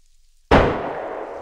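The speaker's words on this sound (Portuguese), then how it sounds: "Dois tiros seguidos, quem escutou?" A single sharp, loud gunshot in the video game DayZ cracks suddenly after silence and rings off with a sustained decaying tail.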